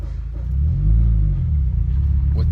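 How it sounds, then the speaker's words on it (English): A 2015 Subaru WRX with a Whiteline 22mm sway bar driving on the road, low engine rumble swelling as it accelerates inside the cabin, loud and steady, with a voice talking faintly over it. "Alright guys, so here we are, the very first drive"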